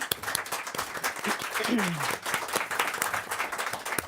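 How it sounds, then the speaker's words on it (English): An audience at a district school forum claps for the speakers, giving a lively round of applause with many sharp, overlapping hand claps throughout, while a voice briefly rises in the middle. "Now it's the audience's turn to give you a big round of applause for your hard work."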